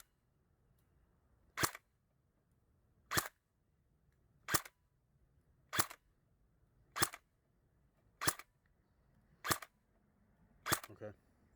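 An F1 airsoft gun fires .2 gram BBs through a chronograph, eight sharp single shots spaced roughly a second and a half apart, each loud, snappy report standing alone against a quiet background.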